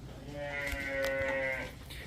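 Cattle on a dairy farm in Amritsar district, Punjab, holding cows and buffaloes, give a loud, drawn-out moo lasting over a second, close by with faint farm ambience around it.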